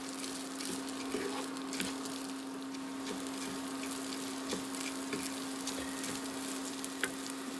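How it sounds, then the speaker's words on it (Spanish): Rice frying in butter in a pan, a soft, even sizzle with faint crackles, steady and quiet throughout, with a low constant hum underneath. "En lo que el arroz se fríe un poco"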